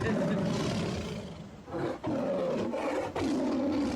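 A tiger roars loudly and repeatedly while facing a dog up close, rough growling bursts filling the clip with brief dips between them.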